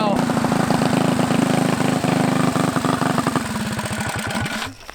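A race bike engine running close by, rapid throttle blips and rough revving pulses that settle into a lumpy idle before cutting off near the end, loud and alone without talk.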